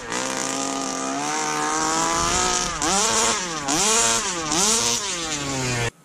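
A small two-stroke RC car engine buzzes loudly and raggedly, its pitch wavering and dipping several times as it struggles to hold an idle, then cutting off abruptly at the end.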